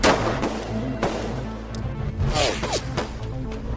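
Gunfire in a film's gunfight scene: several sharp, loud shots and impacts burst out at irregular intervals over a dramatic soundtrack, with brief whooshes and thuds between them.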